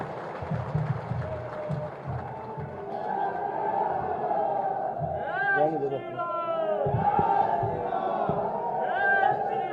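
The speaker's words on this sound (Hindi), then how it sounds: "जोरदार ताली बजाकर स्वागत करिए माननीय प्रदेश अध्यक्ष जी का।" A large crowd at a BJP Uttar Pradesh IT and social media workshop greets the state party president with sustained cheering and shouting, loud and continuous throughout, with a voice over a loudspeaker at the start.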